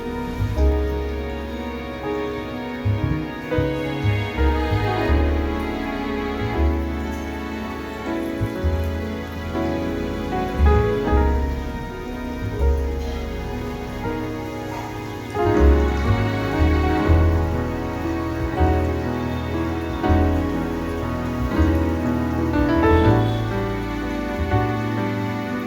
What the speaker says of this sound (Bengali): আগে থেকে ম্যারিনেট করে রাখা চিকেনগুলো আমি ওই তেলে